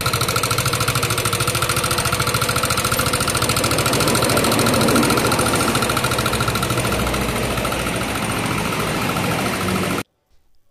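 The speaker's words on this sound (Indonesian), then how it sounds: "Hari ini Lucky Motor kedatangan NMAX yang bunyinya cukup kasar seperti ini" Yamaha NMAX scooter idling in a workshop with a rough, steady mechanical knock from a worn part in the head, loud and close, running continuously for ten seconds before cutting off.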